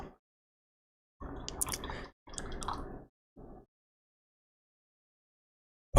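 Brief pours of water over pu'er tea leaves in a small vessel, three short splashing bursts close by with silence between them, the last one shorter.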